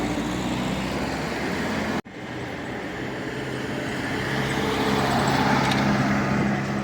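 Traffic rumbles along a street in Gyumri, Armenia, with old Zhiguli cars among the vehicles, a steady engine and road-noise drone that briefly cuts out and then resumes.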